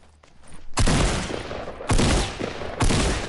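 Three heavy gunshots ring out in a shooter video game, each a loud sharp blast with a lingering tail, spaced roughly a second apart after a quiet start.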